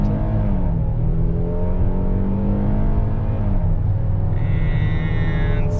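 A 2021 Kia Telluride's V6 engine revs loudly from inside the cabin, its pitch climbing in steady steps through the gears as the SUV accelerates hard, with a continuous droning roar.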